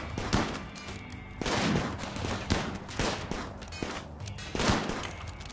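Autonomous turrets open fire in the video game RimWorld, with repeated bursts of rapid gunfire rising and falling against a continuous battle din.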